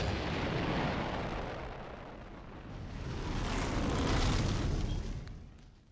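A wave of Japanese warplanes attacking Pearl Harbor in 1941 makes a loud, continuous roar of aircraft engines. The noise swells and falls with blasts or gunfire blended in, and no one speaks.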